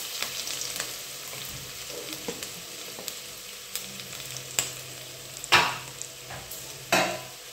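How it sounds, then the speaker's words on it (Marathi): Okra fries in hot oil in a pan over a medium flame with a faint, steady sizzle. Scattered scrapes and clatters from stirring break through the sizzle, and the last two are louder and closer. "आपण भेंडी त्यामध्ये फ्राय करण्याकरता आता टाकून घेणार आहोत।"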